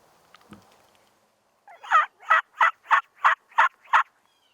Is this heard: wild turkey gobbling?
yes